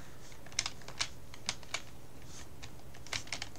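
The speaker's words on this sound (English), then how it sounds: "They got typewriters here." Typewriter keys clacking in Portal 2, a sparse, irregular run of crisp individual strikes with short pauses between them, close and alone over a faint background hum.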